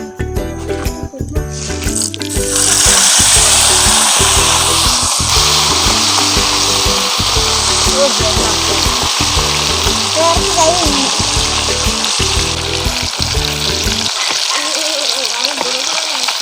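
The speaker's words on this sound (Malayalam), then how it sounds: "ബിയറിൽ മുക്കി മസാല പുരട്ടി വെച്ചേക്കുന്ന ചിക്കനെ നമ്മൾ എണ്ണയിലോട്ട് ഇടാൻ പോവുകയാണ്." Beer-dipped, masala-coated chicken pieces dropped into hot oil, bursting into a loud, continuous crackling sizzle that holds steady and then fades near the end.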